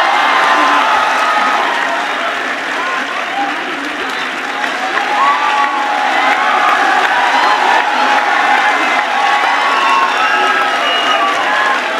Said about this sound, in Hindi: जोरदार तालियां साथियों एक बार फिर से।